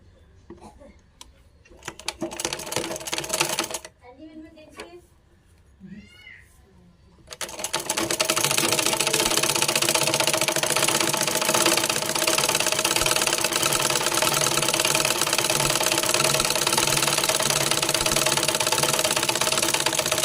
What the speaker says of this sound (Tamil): அதே மாதிரி அடுத்த பக்கமும் தைக்க போகிறோம்.